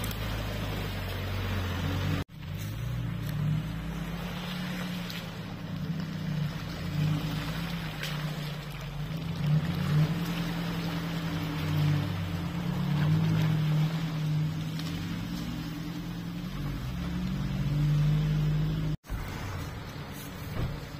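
Motorboat engine running on a small river, a steady loud low drone with wind buffeting the microphone throughout, briefly cut twice.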